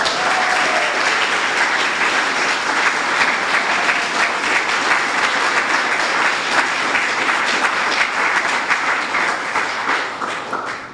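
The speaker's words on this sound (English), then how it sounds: "So give yourselves a round of applause." A town hall audience in Scranton, Pennsylvania breaks into loud, continuous applause that holds steady for several seconds before starting to fade at the end.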